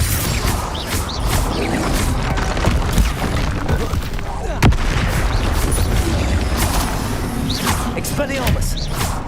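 Booming spell blasts and crashing impacts from a Hogwarts Legacy wizard duel fire repeatedly in a dense, loud barrage, with one sharp crack standing out near the middle.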